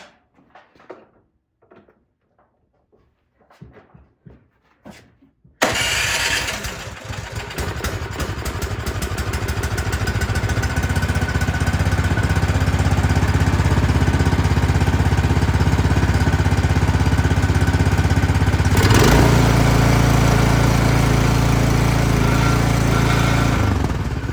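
A Cub Cadet snowblower's small engine, its carburetor gummed by old gas and primed with starting fluid, catches after a quiet few seconds and runs loud and steady, with a brief surge in revs near the end.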